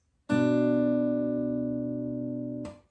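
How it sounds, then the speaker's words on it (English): A single guitar dyad plucked cleanly, two notes ringing together and sustaining steadily for about two seconds before being cut off. "you're going to need to pluck the 5th and the 2nd strings together"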